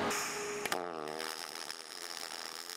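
Aluminum being MIG welded without a spool gun on another weld run, giving a loud, steady buzzing crackle that holds for nearly three seconds with a slight shift partway through.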